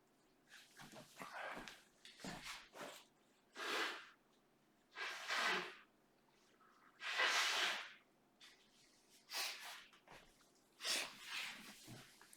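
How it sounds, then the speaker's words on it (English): A stuffy nose sniffles repeatedly in a chilly room, a series of short airy snorts and breathy sniffs coming every second or two, close and fairly quiet, with no talk between them. "I get the sniffles easy"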